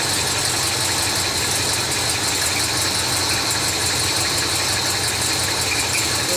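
Steady running car engine with a dual-tank fuel system fitted with a Standard Motor Products FV5K fuel tank switching valve and front and rear fuel pumps, idling evenly with a constant mechanical drone and vibration throughout, close and alone.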